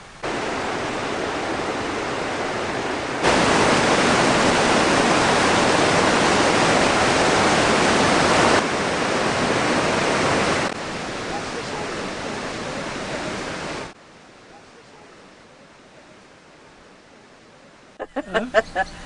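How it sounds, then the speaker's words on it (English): Water pouring over the two-tier Penarth Weir on the River Severn, a dense, loud, steady roar that shifts in level several times, then drops to a quieter wash near the end. "Some of the canal's water came from the River Severn at the two-tier Penarth Weir."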